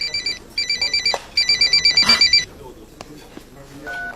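An electronic telephone rings in repeated bursts of rapid trilling tones, clear and fairly close, then stops. A brief tone sounds afterward.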